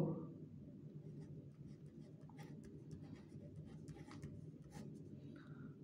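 Quiet handwriting during a Class 7 math lesson on integers: a pen scratches and taps steadily on a page in short strokes, close and faint, with no one speaking.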